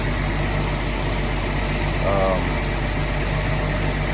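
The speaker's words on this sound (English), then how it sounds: "Engine just purrs" A Datsun 280ZX in good running condition idles steadily, a low continuous engine hum with a faint rattle and a brief higher tone near the middle, the rumble holding level throughout.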